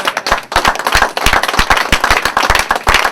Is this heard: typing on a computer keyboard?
no